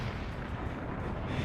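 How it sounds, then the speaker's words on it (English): Cannon fire in the Forts real-time strategy game, a dense, continuous rumbling roar of repeated blasts that fills the short stretch without pause. "So it looks like the cannons did a heavy number and set the recoil back."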